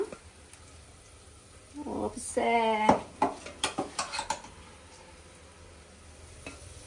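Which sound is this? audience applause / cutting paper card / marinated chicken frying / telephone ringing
marinated chicken frying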